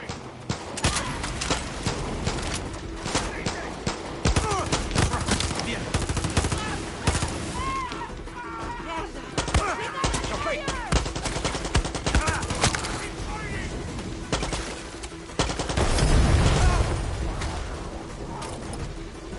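Long volleys of rapid gunfire from a gun loaded with incendiary rounds in Far Cry 6, bursts of machine-gun fire with mechanical clatter and a speaking voice in between, and a heavier thumping blast near the end.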